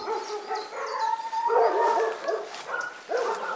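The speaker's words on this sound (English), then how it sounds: "it's a friendly farmer's dog." A friendly farmer's dog barks from beyond a gate by an orchard, several moderately distant barks in short bursts with some whining between them.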